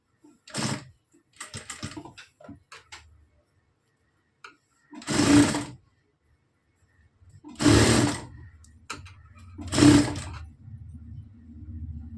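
Sewing machine stitching along a blouse border, heard in several short bursts of stitching separated by pauses, close and fairly loud with no talk over it.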